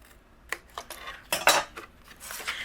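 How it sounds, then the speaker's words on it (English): Scissors cut through cardstock in a handful of quick, crisp snips, close and clear, with the loudest cut near the middle and no talking. "Now I'm going to take my scissors and I'm going to cut that 1/2 inch away."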